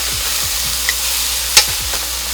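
Ground beef stir-frying and browning in a pan for Thai pad krapow, with a steady low sizzle broken by scraping spatula strokes and one sharper clack, close and alone.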